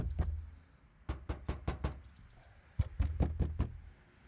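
Knuckles knocking on a sound-deadened car front door panel in two quick bursts of about five raps each, producing dull, solid, close thuds with no rattle and quiet pauses between them.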